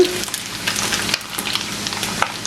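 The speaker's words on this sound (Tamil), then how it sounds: "நான் இந்த நெத்திலி மீனை வந்து இப்படி பொரிச்சிருக்கிறேன்" Steady, crackling sizzle of dried sprats frying in hot oil over medium heat, close and continuous with tiny pops scattered throughout.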